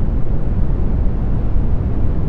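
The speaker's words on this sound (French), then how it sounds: "Et ça, c'est un bruit rouge." Unfiltered red noise from a modular synthesizer noise generator gives a deep, dark rumbling roar with little treble, loud and steady throughout the short stretch.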